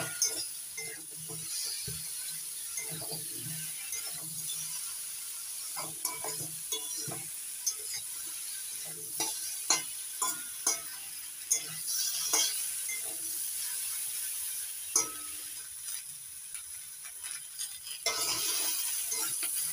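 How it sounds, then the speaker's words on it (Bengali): Tomato and potato with cumin and coriander powder stirred and fried in a pan, a steady sizzle under repeated scraping and clinking strokes of a spoon, close and continuous with no talking. "এবার নাড়াচাড়া করে একটু ভাজা ভাজা করে নেব।"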